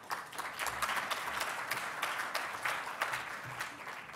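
An audience applauds steadily for a speaker stepping up to a podium at a plant sciences talk, a dense, even wash of many hands clapping throughout, with no voices over it.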